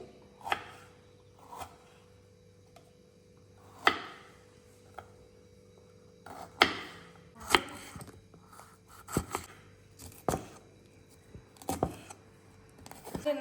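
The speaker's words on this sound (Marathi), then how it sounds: "ढोबळी कट करून घेतली म्हणजे शिमला मिरची कट केली" A knife slicing capsicum lengthwise on a cutting board, sharp irregular thuds of the blade striking the board spaced a second or two apart, close and fairly quiet with no talking.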